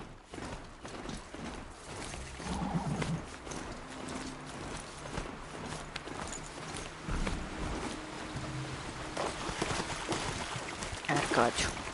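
In Horizon Zero Dawn, rhythmic hoofbeats of a galloping horse, steady and fairly quiet, with game ambience and occasional faint voice in the background.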